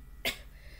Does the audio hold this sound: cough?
yes